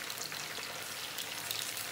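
Mustard seeds and cumin tempering in hot oil for a brinjal bath, giving a steady close crackling sizzle with scattered pops throughout, no talking.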